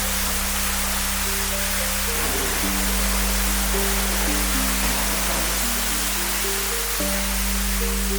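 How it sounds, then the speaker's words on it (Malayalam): Water cascades steadily inside a cave cottage room in Wayanad that also holds a private pool, a continuous broadband rush with a low hum and faint tonal beeps running beneath it throughout. "അതോടൊപ്പം തന്നെ വെള്ളച്ചാട്ടം ഉണ്ടെന്നുള്ളതാണ്."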